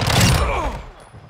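Gunfire in a first-person shooter video game, a dense burst of shots loud and close for the first half second, then quickly fading out.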